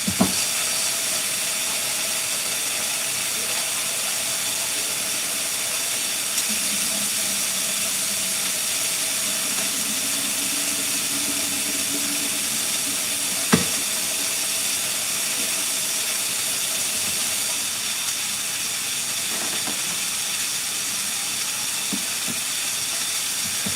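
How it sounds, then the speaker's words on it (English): Frozen peas rinsed under a running tap, a steady, loud hiss of flowing water lasting throughout, with an occasional faint clunk breaking through. "I'm gonna rinse them off."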